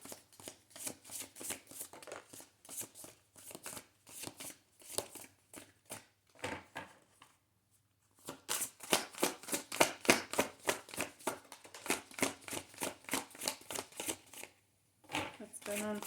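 Tarot cards are shuffled close up in quick riffling bursts of papery flutter, broken by short pauses, with the session quiet and soft.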